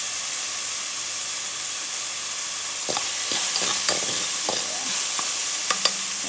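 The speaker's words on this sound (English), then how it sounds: "Then I add the leaves. Just keep stirring." Leaves being stirred in a hot cooking pot, a constant sizzle under a run of scraping and clattering utensil strokes that begin partway through, close and fairly clear, with no voices.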